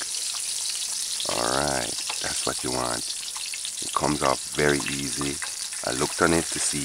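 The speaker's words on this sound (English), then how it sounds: "how it's frying, if it's cooking too fast" Oil sizzles steadily in a pan with a floured-free fish fillet frying, a constant crackling hiss running beneath a person's close, conversational talk.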